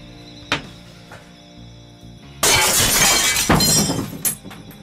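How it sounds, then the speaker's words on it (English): Window glass smashing loudly, a sharp crash followed by a burst of shattering shards and tinkling debris, preceded by a few lighter knocks and thuds. "Window smashing was also something that would occur on stream."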